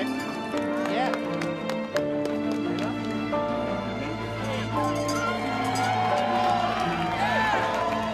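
Spectators at an aid station of the Lavaredo Ultra Trail race cheer and applaud passing runners. The crowd noise sits under loud music and a voice throughout.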